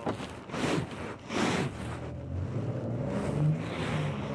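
A car speeding away, with several broad whooshing bursts of engine and road noise followed by a sustained, rising drive sound, heard at moderate distance with some wind noise and no voices.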